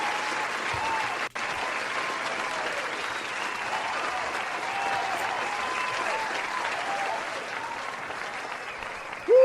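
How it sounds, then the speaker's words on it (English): A round of applause from an audience at a live event, steady dense clapping that carries on without a break, with faint crowd noise underneath and a short sharp knock partway through. "Let's give this guy a round of applause"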